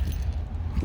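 Fob keys for a 2017 Mazda CX-5 with central locking jangle briefly and close up over a low rumbling background, with no talk.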